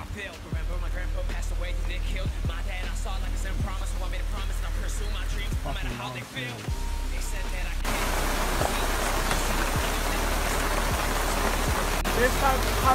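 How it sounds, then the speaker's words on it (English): Steady rain pours down throughout, a dense, constant hiss that stays loud and even, with voices talking over it. "This type of rain, but 30 degrees."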